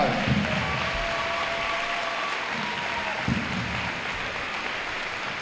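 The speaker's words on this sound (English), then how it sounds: "Give them a great big round of applause." Audience applause at a high school Veterans Day event, a steady wash of clapping that fills the room from start to finish, loud and continuous with no talk over it.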